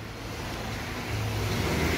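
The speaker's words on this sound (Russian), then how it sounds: "у нас в городе очень шумная улица" Steady traffic rumble on a busy city street, a continuous low wash of car and bus engines that swells slightly louder in the second half, with no voices.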